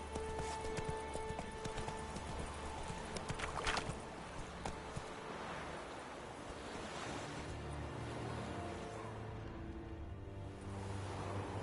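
The horse Roach galloping in The Witcher 3, a rhythmic clip-clop of hooves under steady wind and surf-like rushing ambience, with no talking.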